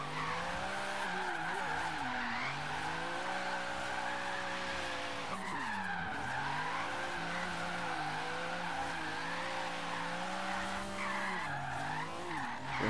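A Lexus SC300 drift build, tuned to around 600 horsepower, slides in Forza Horizon 3, its tires screeching in a long continuous squeal over a loud droning engine that dips and rises as the car changes direction.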